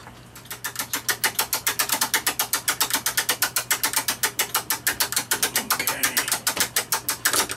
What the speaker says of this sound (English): the way we do that is we've got to wind it up first